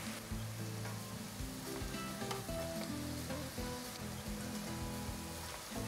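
Rolled chicken taquitos frying in hot oil, giving a steady, close, crackling sizzle that continues evenly throughout with no voices.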